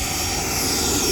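An E-flite Viper 90 RC jet's ducted-fan engine holds a steady, loud, smooth whine during a half-flap takeoff run, heard briefly and alone.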